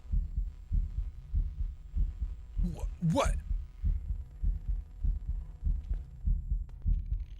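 A low, pounding heartbeat thumps in a regular, fast rhythm throughout a scene from Phasmophobia, with a brief spoken exclamation cutting in near the middle.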